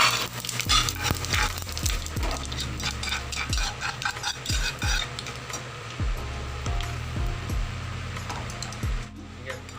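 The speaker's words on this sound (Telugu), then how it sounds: "తరువాత జీలకర్ర, ఆవాలు దానిలోనే వేసి వేయించి సపరేట్ పక్కన తీసి పెట్టుకోవాలి." Cumin and mustard seeds fry in hot oil for a tomato chutney, giving a steady close sizzle with scattered crackles and repeated metallic taps of a spoon stirring the pan.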